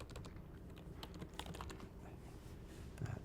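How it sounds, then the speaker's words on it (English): Typing on a computer keyboard during a software demonstration, a steady run of soft, quick key clicks at low level, close by with no talk. "I think I just start typing."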